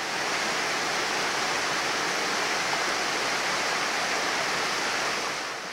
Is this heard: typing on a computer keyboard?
no